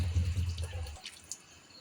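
Water is poured into a pot of adobo, a close splashing stream lasting about a second before stopping, followed by faint quiet drips.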